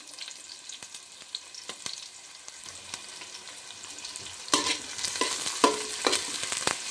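Onions and green chillies fry in a pan with a steady, soft sizzle that grows louder partway through, punctuated by sharp scraping taps of a spatula stirring.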